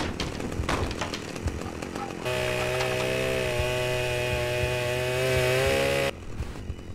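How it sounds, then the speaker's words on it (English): A chainsaw in the game Manhunt revs up to a steady high whine and cuts through a door. The loud droning tone lasts about four seconds and then breaks off, with clattering game noise before and after. "use my trusty chainsaw to bust through the door"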